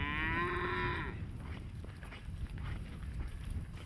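Cattle moo in a herd, one long low call sounding clearly at the start and fading after about a second, followed by shuffling movement and quieter livestock noise.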